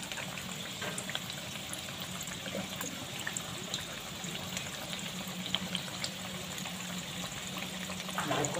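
Banana flower koftas fry in hot oil, a steady, faint bubbling sizzle that runs evenly throughout with a few small pops and a slight swell near the end.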